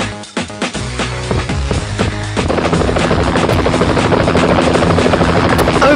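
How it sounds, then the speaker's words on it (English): A rescue helicopter in the zombie shooter game Fatal Raid for mobile drones with a loud, steady rotor chop, layered over rapid bursts of gunfire throughout. "I'm communicating with the rescue helicopter! It'll land soon!"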